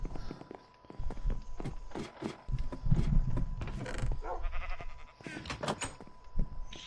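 A Minecraft sheep on a small player-built farm bleats a few times near the listener, mixed with blocky footstep thuds and other game noises, with a voice talking at times.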